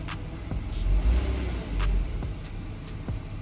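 BMW E34 Touring engine idling and pulling through the gears, a steady mid-pitched drone swelling twice and easing back, close and continuous with faint clicks over it.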